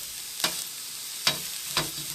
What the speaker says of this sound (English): you just saute these till they're kind of clear